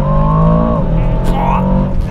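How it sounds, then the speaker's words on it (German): Aston Martin DBX 707 SUV on Pirelli P Zero tyres launching from a race start, a loud engine roar building and rising in pitch close by, with excited voices over it. "linker Fuß auf die Bremse, rechter Fuß aufs Gas, Race Start und los geht's"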